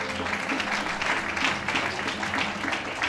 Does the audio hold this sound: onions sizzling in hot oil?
no